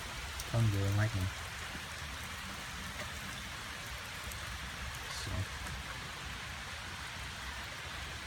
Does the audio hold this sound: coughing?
no